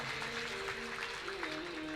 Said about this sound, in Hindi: एक बार जोरदार तालियों से आपका स्वागत करिए